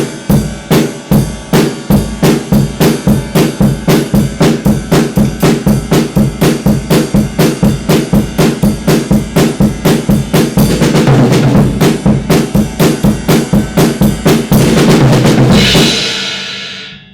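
A drum kit plays a fast, steady groove of kick, snare and ride cymbal at sped-up tempo, dense evenly spaced hits running loud throughout, the cymbal wash building near the end before a brief fade.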